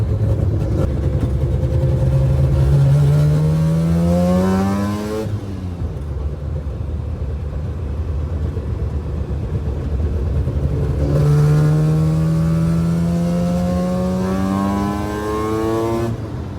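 A Mazda RX2 rotary engine idles and revs loudly up close, a lumpy burbling note that climbs twice in rising sweeps before settling back to a steady, throbbing idle between them.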